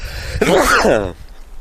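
A single loud sneeze bursts out close by, short and explosive, then fades to quiet.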